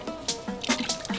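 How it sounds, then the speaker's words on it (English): A soaked microfiber car wash mitt is wrung out: water drips and splatters close by in several quick squeezes and spurts, with no voice. "And you wring it."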